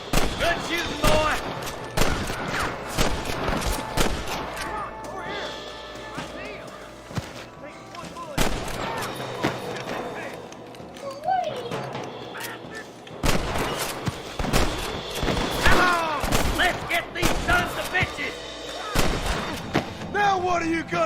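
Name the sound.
gunfire in Red Dead Redemption video game shootout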